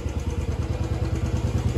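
A parked motorcycle's engine idles close by, a steady low throbbing putter with slight clatter running evenly for the whole stretch, no talk over it.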